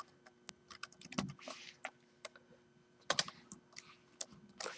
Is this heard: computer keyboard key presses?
yes